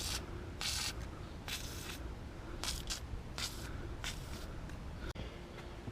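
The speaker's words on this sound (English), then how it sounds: "So I'm going to squirt some WD-40 and try and loosen all this crap up." WD-40 sprayed in several short hissing bursts onto rusty brake rotors of a 2008-2011 Ford Expedition, each spurt close and loud with brief gaps between them and no talking.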